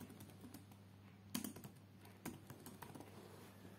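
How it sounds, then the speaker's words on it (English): Keys clack on a computer keyboard as a short search term is typed, with sparse, quiet, irregular taps over a faint steady hum. "just go to the search bar and type device manager"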